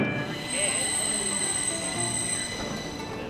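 A Stockholm metro train at T-Centralen station rumbles steadily with a high whine and squealing wheels, the sound close and constant throughout, with a voice faintly present beneath it.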